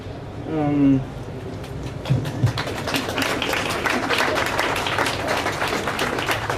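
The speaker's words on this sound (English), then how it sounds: "I hope it's all right with you that we applaud them" A crowd bursts into steady applause after a brief voice at a building facade project presentation in Copenhagen, the clapping dense and sustained to the end.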